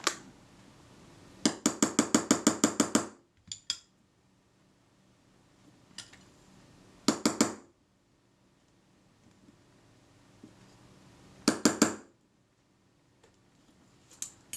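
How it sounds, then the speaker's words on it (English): A hammer taps a screwdriver to loosen a stuck part on a Kodak Retina camera: quick bursts of small, sharp metallic clicks, close and light, in three separate clusters with quiet pauses between them. "I'll give it a little hurry up with a screwdriver and hammer"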